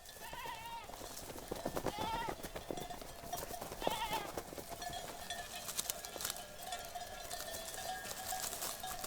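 Domestic goats grazing on an Italian hillside, Sicily, give several wavering bleats early on, then quieter bleats among faint birdsong and scattered hoof and rustling sounds.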